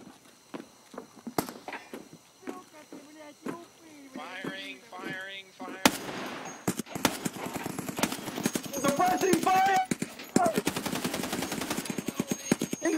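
Escape From Tarkov game gunfire in a police-style firefight: sporadic single shots early, then dense rapid bursts and scattered cracks from about six seconds on, with excited voices shouting over the shooting.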